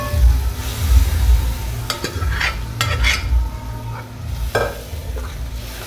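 Minced mutton kheema sizzles in hot oil in a pan while a spoon stirs it, a steady close frying hiss with scraping strokes and a few sharp clinks against the pan.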